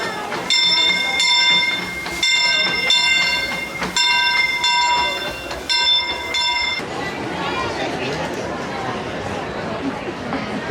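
The Disneyland Railroad train rumbles along its track with a bell clanging repeatedly over the rolling noise for several seconds, then the bell stops and the steady rail rumble continues alone.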